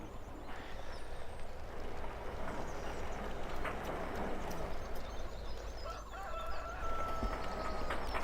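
Video game chickens in Farming Simulator 17 cluck and a rooster crows faintly against a dense, steady background hum of ambient noise.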